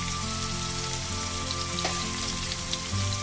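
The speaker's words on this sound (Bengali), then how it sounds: "দিয়ে এটাকে আমি ভালো করে ভাজতে থাকবো" Ginger garlic paste with a little green chilli frying in a pan, a soft, even sizzle with light crackles under a constant background hum.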